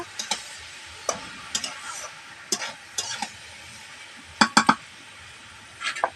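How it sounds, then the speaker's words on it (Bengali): A spoon scrapes and stirs vegetarian banana flower curry in a pan in a village kitchen, giving sparse, close clicks and scrapes in small bursts with quiet gaps between, including a quick cluster of three strokes near the end. "ভালো করে নাড়াচাড়া দিয়ে নেবো"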